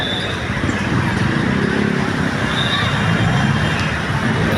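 Steady, loud traffic rumbles below an overpass on Recto Avenue in Manila, a continuous wash of engines and road noise without pause.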